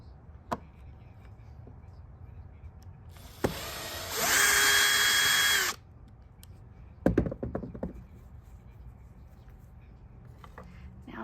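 A power drill backs screws out of a scrap-wood doggie condo in one loud whirring burst of about a second and a half, surrounded by quieter clicks, taps and handling knocks.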